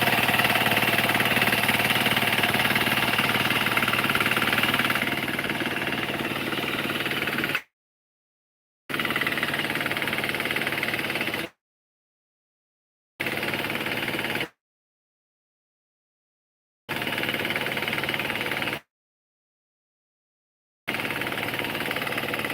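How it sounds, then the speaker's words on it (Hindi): A Kama power weeder engine runs with a steady, rough, loud drone that repeatedly cuts to silence and resumes, with no talk over it. "कामा इंजन बहुत पावरफुल है।"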